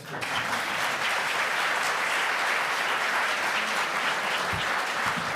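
Dense, even applause from an evening audience at an LSE event on progressive governance, honouring Tyler Macbeth, a continuous roar of many clapping hands lasting over five seconds at steady loudness.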